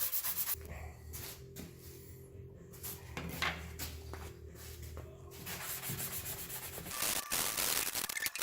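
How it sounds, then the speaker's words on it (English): Sandpaper rubbed by hand over Bondo body filler on a Chevrolet Express conversion van, a steady close scraping and rubbing that runs throughout with a few brief knocks and pauses, no talking. "All I'm going to do here is just use a bit of a sandpaper, rubbed up."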